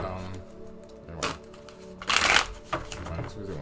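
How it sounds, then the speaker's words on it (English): Tarot cards are shuffled by hand in short riffling bursts with clattering snaps, one loud flurry standing out, between soft pauses. "I'm sorry for the shuffling."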